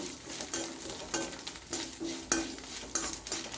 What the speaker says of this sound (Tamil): நெய்யில் பொறிஞ்சிருச்சுன்னா சீக்கிரம் வெந்துடும் நம்மளுக்கு நல்லா பொரியட்டும் இந்த மாதிரி